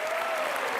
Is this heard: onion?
no